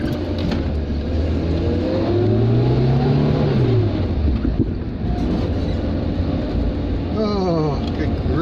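A Dacia car engine struggling to idle gives a rough, uneven rumble with a couple of revs rising and falling, close to the microphone, with wind noise and a voice over it.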